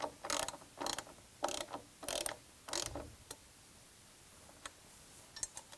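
A ratchet tightens a nut on a reformer tower retrofit kit, making about five quick rhythmic bursts of close, faint clicking followed by a few scattered lighter clicks.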